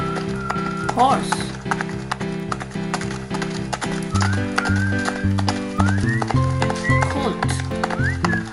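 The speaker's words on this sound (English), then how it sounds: "Horse." A horse whinnies in a wavering neigh, followed by steady clip-clopping hooves and further neighs, all set against a continuous cheerful music backing.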